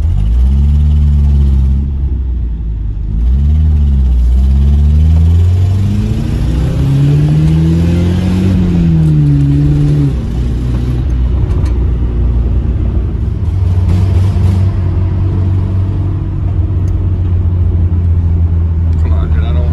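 A Nissan S-chassis car, an S12 with an S15 front end, revs loudly nearby, its engine pitch rising and falling in repeated pulls before settling into a steady, rumbling idle under occasional talk.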